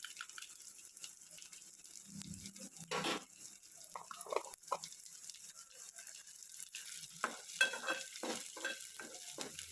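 Onions being stirred into melting homemade ghee, with a faint sizzle beneath close, irregular spoon scrapes and clicks against the pan, louder in a few bursts.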